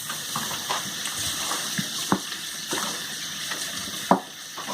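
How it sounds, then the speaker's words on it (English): Tap water pouring into a bowl for washing vegetables, a steady close gushing stream with small splashes and clinks against the bowl. "The next step is easy. Add water."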